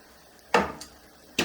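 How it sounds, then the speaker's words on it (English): A lid set back onto a pot of simmering quinoa lands with a sharp clatter, then a faint second tap and another clank about a second later, all close by with no talk. "We're gonna place the top back over it."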